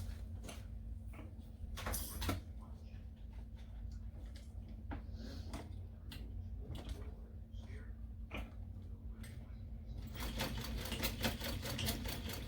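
A sewing machine stitching across backpack webbing folded over a bar, steady quiet mechanical whirring with short stops and a louder fast run at the end.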